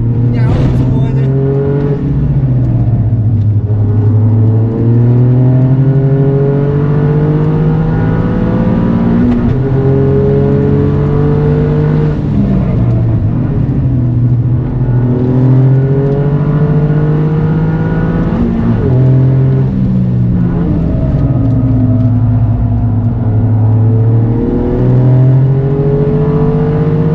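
A Toyota GR Yaris engine revs hard on the Mandalika circuit, loud and close, climbing through repeated gear pulls with sharp shifts and falling tones between each surge.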